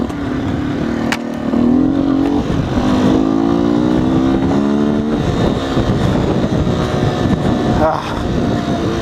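A 2019 Beta 125 RR S two-stroke dual-sport motorcycle rides along with its engine note rising and falling through several gear shifts, loud and close, with someone talking over it and wind noise.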